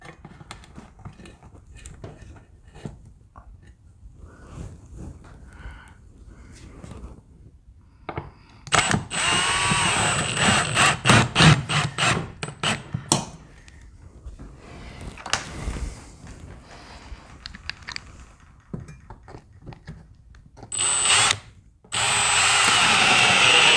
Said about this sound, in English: we're going to put our screws in